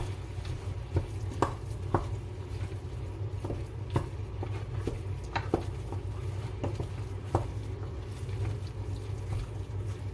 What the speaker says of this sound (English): Let me mix up my meat, or stir my meat.